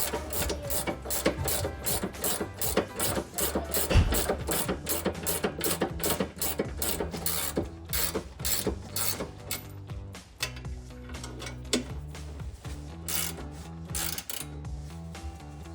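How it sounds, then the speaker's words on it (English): Ratchet tightening the rear lower control arm bolts on a 2005-2014 Mustang fitted with C&L non-adjustable arms: a long run of quick, evenly spaced mechanical clicks, close and loud, slowing and thinning toward the end. "We're gonna tighten it down."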